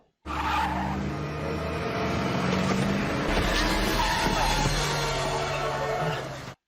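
Car tires skidding and squealing in a TV show scene, a loud sustained screech with engine rumble running for several seconds, mixed with other scene sounds.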